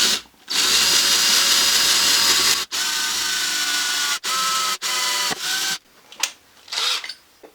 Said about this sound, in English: If you ever wondered how tough carbon fibre was, just try and drill through it